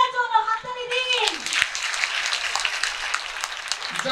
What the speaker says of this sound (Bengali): Everybody put your hands together for God.